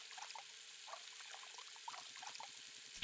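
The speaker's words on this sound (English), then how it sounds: "Quickly, I splash the water on my face." Cold water runs from a tap and trickles and splashes faintly, as if someone is splashing it on their face in a video game, under a steady soft hiss, with a quick patter of small drips near the end.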